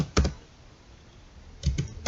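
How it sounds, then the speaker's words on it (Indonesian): A computer keyboard clatters nearby as JavaScript code is typed: one quick keystroke, a pause, then a short burst of three or four keys at the end, crisp and close. "Misalnya di sini kita mengetikkan"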